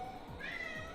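A cat meows briefly in a room while a dinosaur game plays, the call rising and falling a couple of times over steady background noise.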